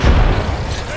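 A grenade blast in Apex Legends lands as a loud, deep boom right at the start, its rumble decaying over the following second beneath a player's voice.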